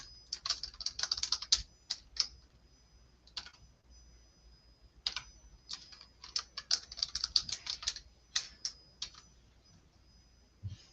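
Computer keyboard typing in quick bursts of clicky keystrokes, close and fairly quiet, with short pauses between flurries as a new password is entered.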